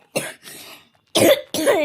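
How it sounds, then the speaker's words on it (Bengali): A short series of coughs, about four harsh bursts close to the mic, two bunched early and two louder ones near the end, with brief pauses between. "একটু বেশি কাশি হয়নি?"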